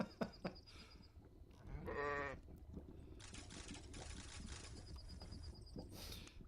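Goats in the medieval city-building game Hearthlands bleat in a quiet farm scene, a few short nasal cries spaced apart over soft background ambience and light chirps.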